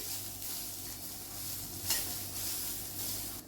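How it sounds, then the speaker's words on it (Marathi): Grated beetroot sautéing in a pan on a low flame makes a gentle, even sizzle with occasional stirring scrapes and a brief clatter near the end. "आणि किस परतून घेऊया आपण. आपण बारीक गॅसवरच परतून घेतोय."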